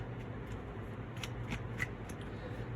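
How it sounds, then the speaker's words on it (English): Tarot cards being shuffled by hand during a reading, a run of soft riffling flutters and light snaps at close range, alone with no talk. "So I'm shuffling out your major arcana now."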